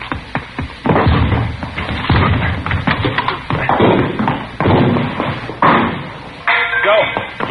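Loud heavy thuds and bangs repeat irregularly as police batter and force a door, with shouting voices mixed in, in an old-time radio drama.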